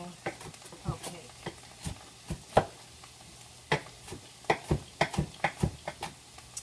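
Vegetables cook over high heat in a pan for stuffed mushrooms, with a soft sizzle under sharp, repeated scrapes and clacks of stirring at an irregular rhythm.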